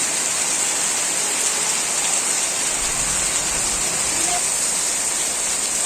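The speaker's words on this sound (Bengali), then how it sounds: "মুসলধারে বৃষ্টি চলতেছে" Heavy rain pours down in a dense, steady hiss that fills the whole stretch without a break.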